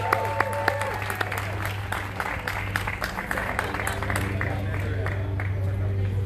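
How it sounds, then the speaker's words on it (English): A rally crowd at a community unity event breaks into steady applause, many hands clapping continuously under a low hum, with scattered shouts and voices mixed into the crowd noise. "Get a round of applause."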